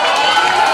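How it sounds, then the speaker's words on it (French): A pageant audience at a school beauty contest finale cheers and applauds, a dense, loud wash of crowd noise in a very brief burst. "On applaudit, mesdames, messieurs, Marie-Adeline Polinis."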